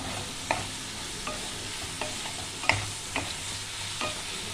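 Greens cooking in a pan for pui shak posto, with water just splashed in: a steady sizzle under a few scattered stirring clinks and scrapes, close and moderately quiet.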